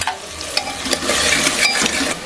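A spoon stirs a tomato masala frying in a pan, with scraping strokes against the metal over a steady close sizzle and no voices.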